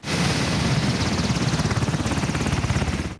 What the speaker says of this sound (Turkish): helikopterin fırkateyni inişiyle yolculuk başlamış oluyor.